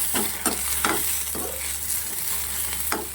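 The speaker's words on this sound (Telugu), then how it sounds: "బెండకాయ అన్నీ ఇలా చూసారుగా కొంచెం ఇట్లా కలర్ వచ్చేదాకా వేపాలి." Okra fries in a pan with a constant bright sizzle, while a spatula scrapes and stirs through it in regular strokes about every half second, close and fairly loud.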